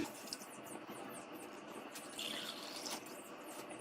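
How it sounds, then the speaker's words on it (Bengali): A small amount of water is poured into a frying pan, a faint continuous splashing trickle heard close up and alone for a few seconds. "প্রথমত আমরা দিয়ে দিব ফ্রাই প্যানে অল্প কিছু পানি"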